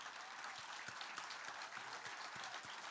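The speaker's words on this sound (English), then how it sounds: "We need to give a huge round of applause to all of our storytellers" Applause from an audience at a celebration-of-life event, honoring storytellers, a steady wash of many hands clapping, faint and distant throughout.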